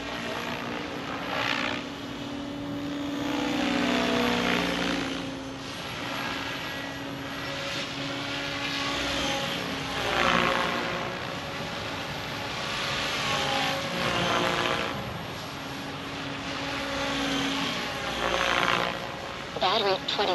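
A radio-controlled XL Power Nimbus 550 helicopter whines and buzzes steadily nearby, its rotor pitch rising and falling as it flies, loud and continuous throughout.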